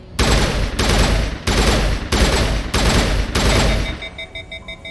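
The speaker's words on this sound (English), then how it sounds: "Can I shoot this open?" Weapon fire in Mass Effect at a gate: five or six loud, close bursts of automatic shots with short gaps between them, then electronic beeping tones as the shooting ends, no talk.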